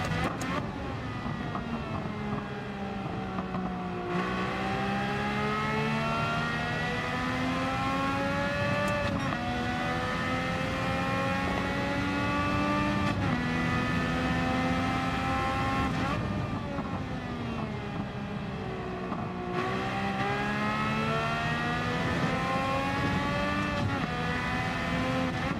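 A race car engine in Gran Turismo 7 during a time trial, droning steadily with repeated rising pitch sweeps as it accelerates through the gears and brief dips between shifts, loud and continuous throughout.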